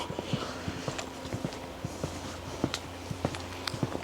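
Footsteps walking over rough ground toward a remote outdoor site with no car access, a steady run of crisp, close step impacts with a faint clip-clop quality, moderately quiet against a light background hiss.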